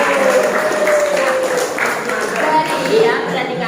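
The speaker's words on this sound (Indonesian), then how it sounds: "Tepuk tangan lagi" Classroom audience applause during a school teaching session, a loud continuous patter of many children clapping with voices and shouts mixed in throughout.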